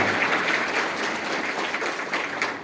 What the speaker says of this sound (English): let us all give a big round of applause for ourselves, the batch of 2022